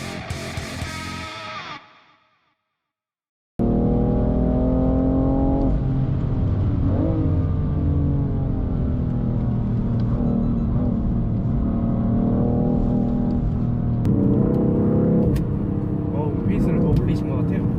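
A BMW F90 M5 with carbon-ceramic brakes drives a test lap at a BMW driving center, its engine droning and rising and falling in pitch steadily and loudly after a brief silence, with voices talking over it.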